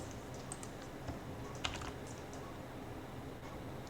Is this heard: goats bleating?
no